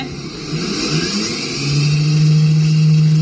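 A Honda Beat Hybrid scooter accelerating in third gear with no load, its mid-pitched engine rising into a loud, steady, sustained whine close by.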